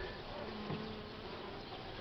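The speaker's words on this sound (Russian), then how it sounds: "Чуть-чуть пчел осталось." A few honey bees from a nearly dead colony in early spring give a faint, continuous low buzz, steady and quiet throughout.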